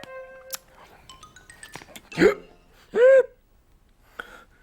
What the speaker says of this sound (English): Did that biscuit tin just hiccup?